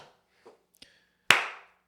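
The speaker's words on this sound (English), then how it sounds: "let me just get a single clap for these" A single sharp, close hand clap rings out loud and alone after a few faint taps, its tail decaying quickly.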